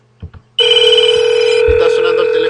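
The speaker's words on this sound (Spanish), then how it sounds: "Está sonando el teléfono análogo." An analog telephone on an Asterisk FXS port rings with a loud, continuous electronic bell tone that starts abruptly after a couple of faint knocks and keeps sounding steadily.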